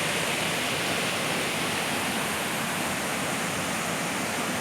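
Kaigal waterfall in Chittoor district, its rushing water a loud, unbroken roar of white noise, close and steady with no pauses.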